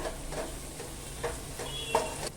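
Turmeric and Malvani masala get stirred into a cooked onion-tomato mixture in a pan, soft sizzling under a few distinct spoon scrapes and a brief clink, close and quiet, with no voices.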